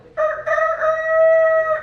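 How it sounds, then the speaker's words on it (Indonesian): A rooster crows in the morning: one long, loud, close cock-a-doodle-doo that holds steady for nearly two seconds with no other sound. "Misal pagi hari terdengar suara ayam."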